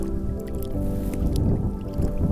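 Small wild carp slipped back into warm lake water from the bank, a steady close wet squishing and dripping with soft splashes throughout.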